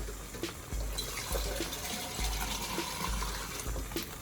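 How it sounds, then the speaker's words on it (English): Water runs into a pot of pig feet stew in surges, a close gushing fill with a low rumble, heard alone without talk. "Fill it up with more water."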